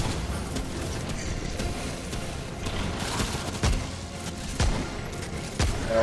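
Gunfire from a burning-damage shotgun in the game Remnant: From the Ashes during an intense boss battle, heard as three sharp blasts spaced about a second apart over a dense, continuous din of combat noise.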